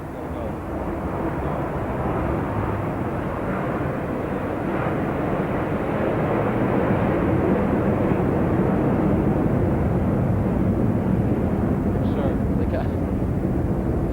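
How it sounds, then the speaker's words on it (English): An airplane passes over an outdoor tennis stadium at the 1984 US Open, making a broad, steady rumbling drone that builds slowly and holds at a fairly loud level. A few faint sharp sounds come near the end. "There's a plane going over"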